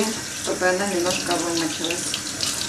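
Cold tap water runs into a sink while fresh Danube herring is rinsed, a steady close splashing stream with someone speaking briefly over it.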